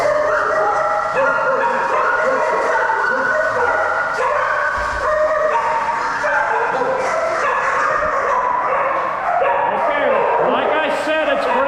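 Several dogs in a shelter adoption room bark, yip and whimper in a continuous loud din, with people talking over the noise throughout.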